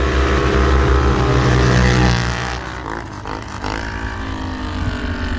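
Polaris Sportsman Highlifter and Can-Am Renegade XMR ATVs race through snow, their engines roaring loud and close, easing briefly in the middle before revving hard again.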